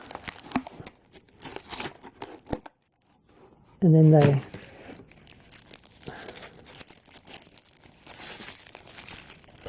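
Paper wrapping is crinkled and sticky tape is torn off Transformers toy accessories, with scattered rustles and one loud ripping tear near the middle, while someone talks before and after.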